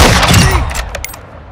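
Gunfire in the Call of Duty DMZ video game, a loud burst of shots at the start followed by a few sharp metallic pings and fading tail, no talk over it.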